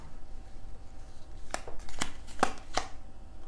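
Tarot cards are handled and drawn, with a handful of sharp, separate snaps and flicks of card stock over a soft, steady background.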